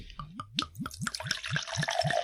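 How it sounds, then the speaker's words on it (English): Drink glugs and splashes in rapid, rhythmic pulses as it pours into a glass, close and fairly quiet, rising in pitch as the glass fills. "Just pour some of that good stuff into a glass so that we can see what this tastes like"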